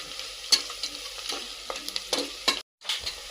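Onion, garlic, ginger and curry leaves frying in a pan for masale bhat, with sizzling and repeated stirring scrapes, a brief silent gap near the end, close and with no voices.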